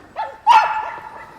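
A dog on a woodland walk in Sherwood Forest, Nottinghamshire, gives a couple of short yips and then a louder bark that trails into a whine, fairly close, with no talk over it.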